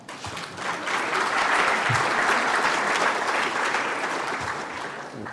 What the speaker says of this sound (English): Oh, you could applaud if you wanted, I don't know.